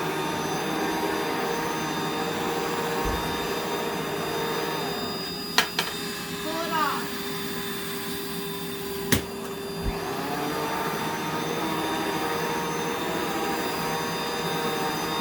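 A vacuum cleaner drones loudly and steadily, with a few sharp clicks and bumps midway as a short spoken remark passes beneath the motor noise.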